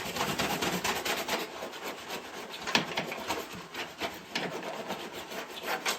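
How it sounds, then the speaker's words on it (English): Surface rust is scraped off the body of a Citroën 2CV car in quick, irregular rasping strokes. The scraping is close, fairly quiet and continuous, with no one speaking. "I'm just scraping off the surface rust"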